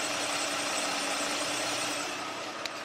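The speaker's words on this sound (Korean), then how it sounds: "엔진 소음 먼저 들려드리면은" Idling 3.3-litre V6 gasoline engine of a Hyundai large sedan, heard close with the hood open: a steady, smooth mid-pitched hum with a faint hiss, no talking.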